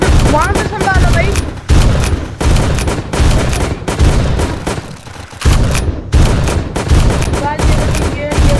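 Loud, rapid bursts of gunfire roar through a zombie rush video game, with multiple rounds per shot. Dense volleys repeat in fast clusters with brief gaps between them.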